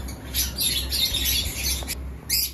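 Several DunFallow birds from a breeding flock squawk and chirp in overlapping bursts, fairly loud and close, over a steady low background hum with no talking.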